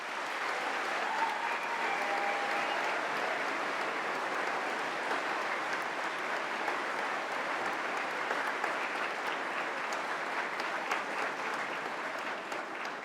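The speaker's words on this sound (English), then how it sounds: "join me in thanking them with a huge round of applause" A large audience at a university science and technology graduation ceremony gives a sustained round of applause, even and unbroken, filling the hall at a steady level throughout.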